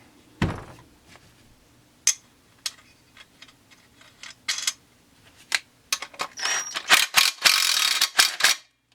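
Short bursts from an impact wrench tightening a bolt on a Huztl Farmertech 372XP clone chainsaw kit: scattered sharp clicks and knocks, then a run of rapid hammering rattles near the end, close and fairly loud.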